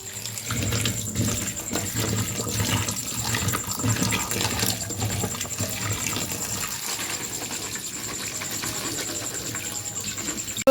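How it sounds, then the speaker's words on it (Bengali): Taro (kochu) is rinsed in a kitchen under running water, a steady close splashing and trickling that continues without pause and with no one talking. "এই কচু এটাকে ধুয়ে নি একটু"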